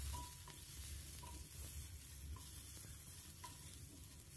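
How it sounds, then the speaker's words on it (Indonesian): Pork ribs fry in a pan with ginger and garlic in a little oil, making a quiet, steady sizzle with a few soft clinks of stirring. "tumis harum jahe dan bawang putihnya ya. Kemudian masak iga babinya"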